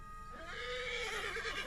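A horse whinnies in a long, rising then wavering neigh, loud and close, with no voices around it.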